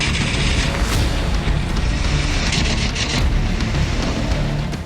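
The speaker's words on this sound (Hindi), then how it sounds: "फिर यूक्रेन की सीमा के भीतर घुसते ही शुरू होती है बमबारी" A Russian air strike with Su-25SM jets and Ka-52 helicopters bombing a Ukrainian village brings loud, sustained rumbling booms and blasts that merge into one heavy, continuous roar.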